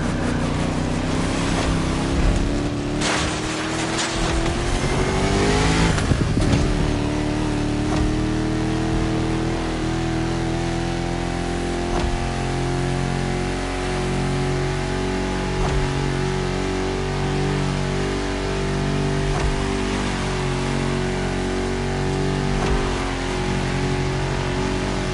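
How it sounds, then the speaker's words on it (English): A 1969 Mustang Boss 429 muscle car in The Crew Motorfest racing game revs hard, its engine pitch climbing, then settles into a loud, pulsing throaty rumble that carries on steadily without any talk. "You're driving my #1 car, the star of my collection, the 1969 Mustang Boss 429."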